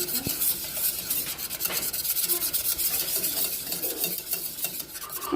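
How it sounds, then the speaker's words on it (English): Whisk scraping rhythmically around a pan of enchilada sauce, close and busy with quick metallic rubs and light clinks, no voices. "We're going to whisk this together and let it simmer until it thickens up."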